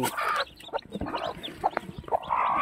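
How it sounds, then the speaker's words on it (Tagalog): A mother hen clucks near her chicks on a farm, giving short close clucks and throaty calls over faint background rustling. "Bumaba na yung inahin ano."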